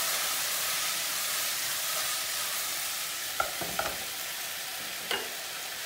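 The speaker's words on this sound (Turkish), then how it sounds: "Kenardan şu yemeğimizi de kontrol edelim. Bir kere karıştıracağız." A potato dish with tomato paste is stirred once in a pot, a few brief scraping strokes at close range over a steady frying sizzle and hiss.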